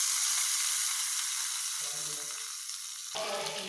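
Tempering sizzles steadily as it is poured into coconut chutney, a loud continuous hiss and crackle that shifts sharply near the end.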